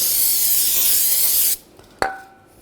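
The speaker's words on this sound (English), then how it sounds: "Now take some brake parts cleaner," Brake parts cleaner sprays steadily onto a BMW 328i front brake rotor in a loud, close hiss for about a second and a half, then stops, followed by a brief metallic clink that rings out.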